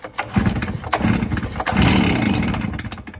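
Stihl BR 450 backpack blower engine on full choke, fresh carburettor fitted, heard as close, rough pull-start cranking and sputtering bursts that briefly catch into a louder ragged engine run.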